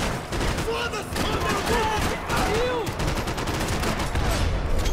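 Gunfire in the video game Max Payne 3: dense, rapid bursts of shots pound almost without pause for the whole stretch, loud and close, with faint tonal game sounds beneath.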